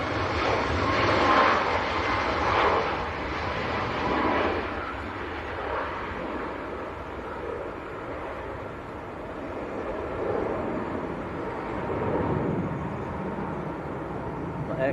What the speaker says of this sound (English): It is indeed Ryanair to Malaga, 737